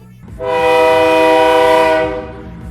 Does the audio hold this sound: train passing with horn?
yes